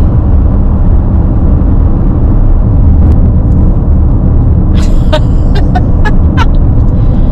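A car drives on the road behind a moving vehicle, a loud continuous road rumble and whir with a few brief squeaky sounds near the end.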